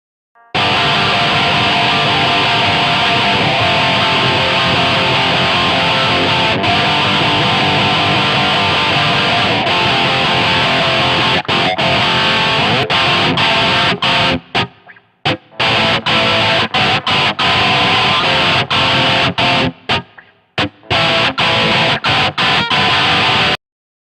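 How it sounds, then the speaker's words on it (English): Electric guitar in drop D tuning chugging heavily distorted three-string power chords, loud and dense, with abrupt stops and brief silences between phrases near the end. "I'm in drop D, and your typical 3-string power chord would sound like this."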